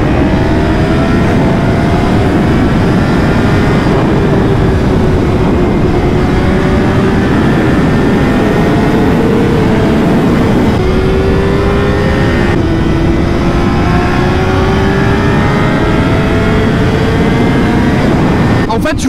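A Honda CBR 600 RR sport motorcycle engine revs hard and steadily for the whole stretch, loud and close, its pitch climbing and falling through repeated gear pulls, with a voice talking over it.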